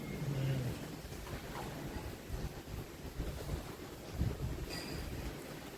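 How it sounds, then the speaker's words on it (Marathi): Rain falls outdoors in a steady, faint wash of hiss with no distinct drops standing out, continuous throughout and without voices. "थोडा पाऊस बंद झाला होता, आता पुन्हा चालू होऊन गेला."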